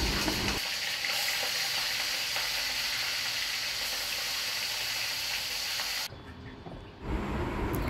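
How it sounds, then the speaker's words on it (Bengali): Katla fish pieces fry in hot mustard oil, a loud continuous sizzle and crackle close by that dips briefly near the end before surging back, with no talking. "মাছগুলোকে একটু লালচে লালচে করে বাদামি রং করে ভেজে নেব।"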